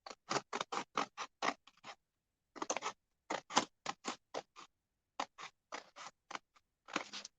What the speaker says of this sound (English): is just trim these off